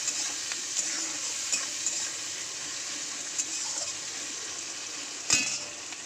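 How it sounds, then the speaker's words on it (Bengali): Onions and whole spices sizzle steadily in hot oil for a fish curry with fish head and roe, a close continuous frying hiss with a few sharp utensil clinks and one louder stir near the end. "পেঁয়াজটা ফোড়নটা ভালো করে তেলে ভেজে নিয়েছি।"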